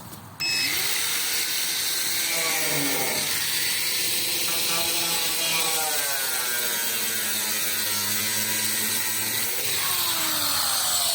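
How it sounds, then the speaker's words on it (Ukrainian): A loud, continuous grinding whine with shifting pitch as an angle grinder powered by an inverter cuts into a metal barrel, steady and close for several seconds, with harsh metallic screech. "зараз ми будемо пиляти бочку, ви почуєте, як працює болгарка"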